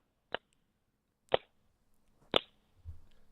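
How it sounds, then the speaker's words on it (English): Three slow, deliberate single hand claps spaced about a second apart ring out sharply in a quiet radio studio, each crisp and isolated, followed by a soft low thump. "Gentlemen, slow golf clap"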